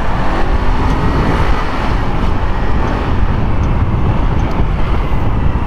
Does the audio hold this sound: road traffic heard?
yes